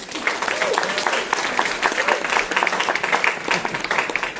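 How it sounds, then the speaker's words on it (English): An audience at a storytelling event applauds with distinct, sharp individual claps forming a lively round, while voices and cheers mingle underneath. "Another round of applause for Duke."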